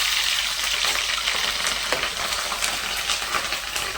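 Four dried red chillies frying in hot oil for a tamarind pulusu curry, a loud continuous crackling sizzle heard close up with faint stirring taps and no voices.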